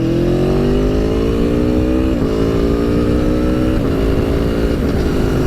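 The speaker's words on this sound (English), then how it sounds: "Just listen to this engine." An Aprilia V4 Tuono Factory motorcycle engine roars loudly and continuously up close, its pitch climbing steadily through the gears with brief dips at each shift.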